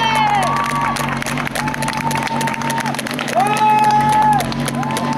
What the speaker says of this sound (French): Allez, on l'applaudit, là.